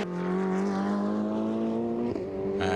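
Ferrari 488 Challenge race cars at Budapest rounding turn 14, a loud close engine howl with pitch sliding as a car passes, then a sharp shift and a second engine note rising at the end.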